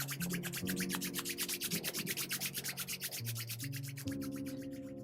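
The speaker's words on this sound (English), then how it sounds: "we'll start just by rubbing the hands together" Palms rubbed briskly together to build warmth before a relaxation self-massage, a close, rhythmic swishing friction repeating evenly for several seconds with no talking.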